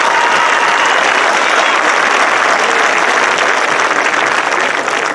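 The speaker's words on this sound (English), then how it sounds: "So let's give our speakers a round of applause." A stadium crowd at a high school commencement ceremony gives the speakers a loud, sustained round of applause, a dense wall of clapping that runs steadily throughout.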